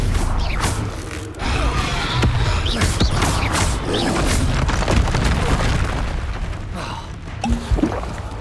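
Spell effects from Hogwarts Legacy, including a Stupefy cast, come as dense booming and creaking magical impacts layered over continuous loud game combat noise, with several sharp bursts scattered throughout.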